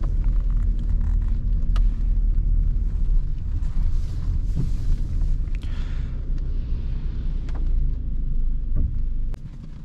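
A Volkswagen Passat cruising on a rainy autobahn makes a loud, continuous rumble of engine and tyres on wet road from inside the car, steady throughout with no talking.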